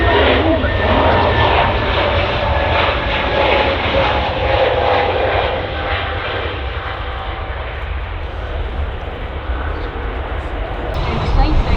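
A passenger airplane departing Manchester Airport roars loud and steady throughout, a broad sustained engine rumble that fades only slightly before swelling again near the end.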